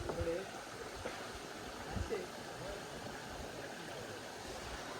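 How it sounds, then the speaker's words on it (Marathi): A small waterfall sends a steady, close rush of falling water through the whole stretch, with people's voices briefly breaking in near the start and again around the middle. "बारकाशा धबधब्या घेऊन पोहोचलो."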